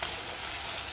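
Turkey berries and chopped tomato sauté in a hot pan for a rasam, giving a steady, dense, close-up sizzle with no pauses and nothing else heard over it.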